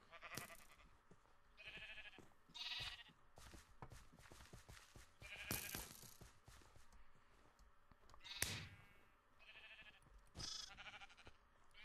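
Repeated sheep bleats in a game, several short calls spaced across the clip amid clicks and busy background sounds, no talking.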